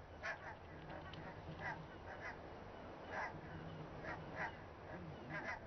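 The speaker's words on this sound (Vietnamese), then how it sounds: "Cặp bố mẹ ngỗng mới này đang chăm sóc 5 con ngỗng con vừa mới chào đời." Wild geese in the Nordic wilds, a parent pair tending five newly hatched goslings, give repeated short honks scattered over faint ambient background, distant and soft.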